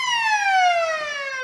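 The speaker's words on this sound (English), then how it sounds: "the air raid siren interrupts me" A sustained air raid siren wails loud and steady at a local football ground, its tone slowly falling as it sounds without pause.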